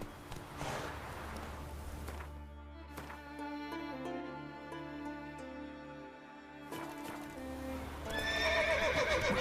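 Horse neighs and whinnies alongside steady clip-clop hooves as it gallops in The Witcher 3, the hoofbeats running throughout and a loud whinny rising near the end, with no talk.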